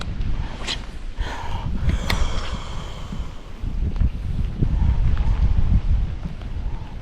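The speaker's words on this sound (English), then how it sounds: "How the bite just kind of stopped when it got windy and choppy like that." Wind gusting across choppy water beside a dock on a lake during crappie fishing, a steady rushing, buffeting roar with low rumbling microphone wind noise and a few faint knocks and splashes throughout.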